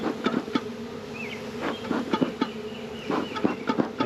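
A moving swarm of honey bees buzzes continuously nearby, a dense droning hum with individual bees whining in and out, joined by a few soft thumps of hive handling.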